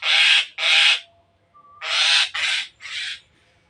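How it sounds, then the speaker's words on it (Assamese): Mynas and pigeons gathering to feed give loud, harsh squawking bird calls in several bursts, two close together, a pause, then three more, near and without talk. "শালিকি কেইটামান আছে, কপৌ আছে,"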